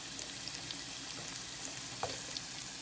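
Chopped carrots go into a hot pan with beans, frying in a soft, even sizzle, with a few faint clicks and a small stir near the end; quiet and without speech.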